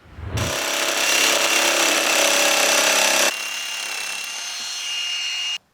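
Power tool trimming and cutting plastic nose brace pieces for an MD3 modified race car, a loud continuous high-pitched whine that runs steadily for about three seconds, then drops to a lighter, thinner cutting tone before stopping abruptly.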